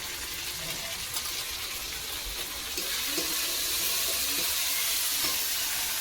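Prawns and pointed gourd fry in a pan with a continuous close sizzle that grows slightly louder partway through, with faint stirring clicks and no talk.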